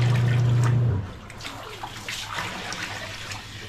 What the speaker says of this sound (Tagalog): nagpapapuno ako ng tubig.